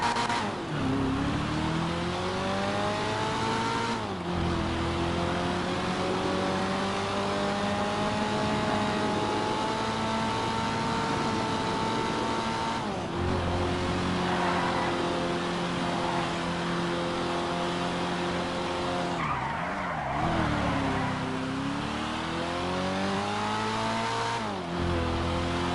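The NS X32, a two-door luxury car, is test-driven in a video game, its engine revving and shifting through gears in repeated rising sweeps, loud and continuous with brief drops between accelerations.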